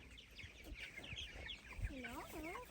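Hens clucking and calling from a backyard flock kept in mobile chicken tractors on a farm, a cluster of bright, wavering bird calls near the end over quieter scratching and movement, with soft family voices nearby.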